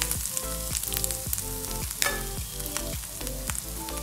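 Grated coconut frying in coconut oil for Onam koottucurry, a steady close crackling sizzle with rhythmic scraping and stirring strokes in the pan, no voices.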